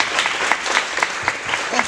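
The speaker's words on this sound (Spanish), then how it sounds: "Un aplauso para el maestro de participación." Audience applause for a teacher at the end of a talk, a steady wash of many hands clapping throughout with a few voices faintly mixed in.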